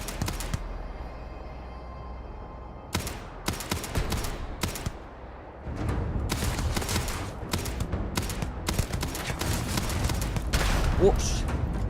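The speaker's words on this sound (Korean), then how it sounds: "총소리가 아닌가?" Rapid bursts of gunfire from the space game Starfield, sharp repeated cracks in dense clusters that come and go, with a low rumbling game backdrop and some voice underneath.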